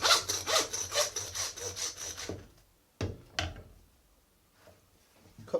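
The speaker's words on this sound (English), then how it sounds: "Saw." A hand saw rasps through a lamb shoulder at the blade bone, a quick run of rhythmic back-and-forth strokes, then a pause broken by a few scattered knocks and scrapes, close and fairly quiet.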